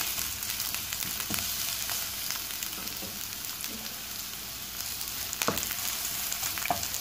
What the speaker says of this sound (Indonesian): sekarang aku mau numis dulu ini bawangnya ya teman-teman ya yang tadi udah diiris-iris